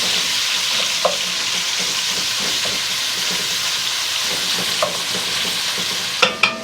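Beef browning in a pan over medium-high heat for smoked brisket chili, giving a steady close sizzle and hiss with occasional stirring clicks and scrapes, louder clatter near the end.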